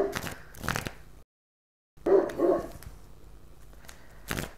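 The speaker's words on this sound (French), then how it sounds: "je ne sais pas si vous entendez mon chien" A dog barks indoors in short bursts, a couple of yaps, a pause, then more barking, moderately close and fairly loud in a quiet room.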